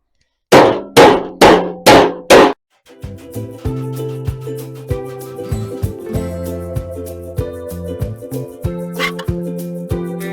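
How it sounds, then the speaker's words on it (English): Four loud, sharp bangs open the clip, followed by a run of lighter, ringing metallic taps in an uneven rhythm, close by: hammer and dolly shaping sheet metal on 1938 Chevy door panels. "Then we'll hammer and dolly it."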